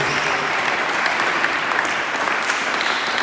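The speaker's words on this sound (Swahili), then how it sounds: "Hayo ni makofi yangu, hayo ni ya kwangu" A congregation applauds at an opening prayer conference service in Nairobi, with steady, dense clapping filling the whole stretch at an even, loud level and no voices standing out.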